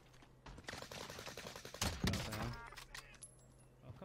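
Gunfire in a Call of Duty match on Rebirth Island, with a burst of shots and impacts near the middle amid steady game noise, then quieter ambience.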